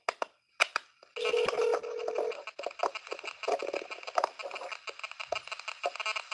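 Telephone dialing tones on a phone making a call, a short run of steady beeps followed by a stretch of crackly, clattering handling noise, fairly faint and close.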